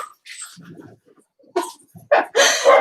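A pet dog in a home with several other puppies and kittens gives short sharp barks and yips, the loudest bursts near the end, with quieter snuffling and whimpering sounds between them and no talking.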